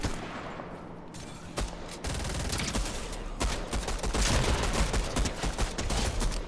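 Dense Fortnite gunfire fills the whole stretch, rapid rifle and pistol shots crackling in overlapping bursts at steady loudness with no pauses between volleys.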